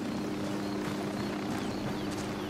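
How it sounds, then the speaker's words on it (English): A helicopter in the video game Ghost Recon Wildlands drones steadily with a constant low rotor hum, filling the background at an even, moderate level throughout without any talk. "This helicopter needs to shut the fuck up."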